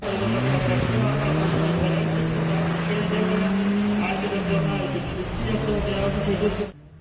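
Cars drive a slalom course at a university festival's car competition in a parking lot in the rain, engines revving and whining continuously nearby, pitch rising and falling, with a voice talking over the engine noise.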